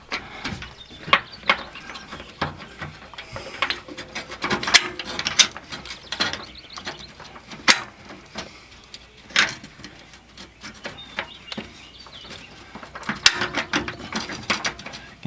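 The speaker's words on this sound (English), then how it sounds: "Now we're going to put the gear pack back." Rapid ratchet clicks and mechanical gear rattles come in irregular bursts, close and fairly loud, as the gear pack of an RV slide room is reinstalled with a bolt and timing rod.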